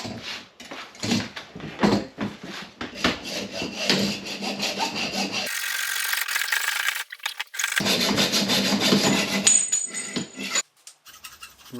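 A metal file rasps in long, steady back-and-forth strokes while working on a GT Aggressor Pro bike fork, loud and close, with a brief pause in the middle.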